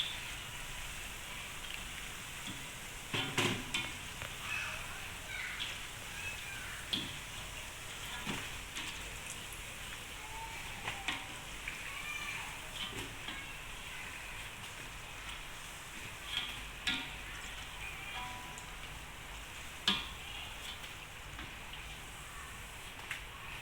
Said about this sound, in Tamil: பாருங்க, இதெல்லாம் நல்லா பொரிஞ்சிடுச்சு